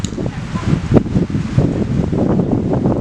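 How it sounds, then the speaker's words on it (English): Strong, cold wind blows outdoors around trees, a gusty, rough rushing noise buffeting the microphone, with leaves rustling and a brief sharp knock partway through. "it's very cold, very windy"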